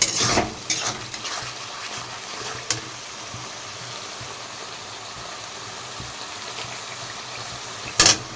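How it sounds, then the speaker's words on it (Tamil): Mushroom fish curry being stirred in a pan, a steady low sizzle with occasional spoon scrapes and clinks against the metal, a louder clatter near the end, no one talking. "இதையும் அதே மாதிரி மிக்ஸ் பண்ணிக்கலாம்."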